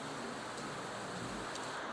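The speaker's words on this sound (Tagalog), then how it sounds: "Umuulan na naman." Rain falling outside the balcony of an event venue, a steady, even hiss of downpour with no break, fairly faint and continuous throughout.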